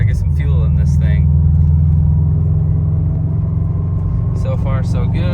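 A Subaru STI rumbles along the road with a deep, steady engine drone heard from inside the cabin, loud and close, while someone talks at the start and end.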